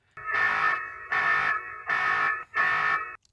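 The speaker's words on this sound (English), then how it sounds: "It also has an alarm system so you can scare people away." A Winees F2 Pro floodlight security camera sounds four loud, sustained electronic alarm blasts with brief gaps between them, harsh and buzzing.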